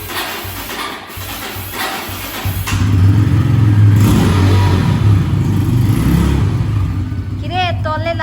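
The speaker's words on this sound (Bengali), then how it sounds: "দিয়ে তাড়াতাড়ি করে বাইক স্টার্ট করে চলে যেতে হবে" A motorbike engine idles quietly, then swells into a loud, rough running note as it pulls away from a gate, holding strong before easing off slightly, with people talking nearby.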